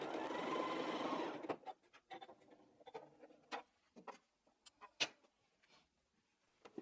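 A sewing machine stitching fabric strips for a quilted strippy bag runs in a steady close burst for about a second and a half, then stops, leaving scattered soft clicks and handling taps.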